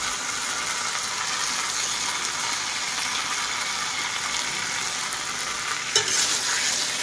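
Meat sizzles and fries in a pan with a spice paste ground with something sweet, a steady close hiss with occasional stirring scrapes and a brief clatter near the end, no talking.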